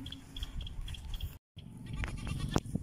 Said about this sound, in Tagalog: Bali yung mga kambing natin.